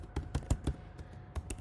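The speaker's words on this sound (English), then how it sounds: "you can do it by typing it over here" Typing on a computer keyboard, a handful of soft, irregular key taps heard close and alone over faint room noise.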